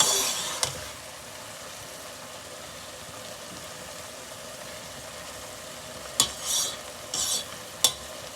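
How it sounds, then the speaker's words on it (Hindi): Rice for sweet jaggery rice stirred in a cooking pot: a faint, even hiss for most of the stretch, then a few sharp spoon scrapes and clinks near the end. "चावल ऐड करके हिला देने अच्छी तरह।"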